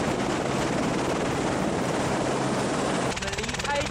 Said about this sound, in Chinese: 直升机降落的时候会扬起地上的白雪